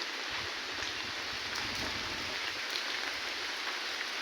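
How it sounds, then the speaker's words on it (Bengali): Steady morning rainfall, a dense even hiss of drops striking surfaces, fairly close and continuous with faint patters, no talking. "বৃষ্টি"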